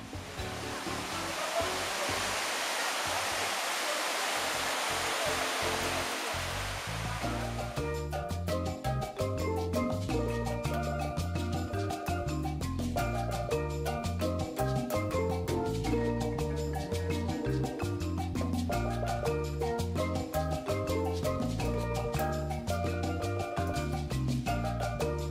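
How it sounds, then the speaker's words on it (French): The waterfall at the crayfish cascade in the Antilles pours into a bathing pool at its foot, a steady rushing roar for the first several seconds before music takes over and covers it. "Nous nous arrêtons en chemin à la cascade aux écrevisses, où il est possible de se baigner dans le réservoir au pied de la chute d'eau"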